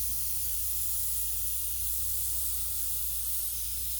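Airbrush spraying orange paint onto a spring crocus painting gives a steady, even airy hiss that holds at the same level throughout, close by and alone.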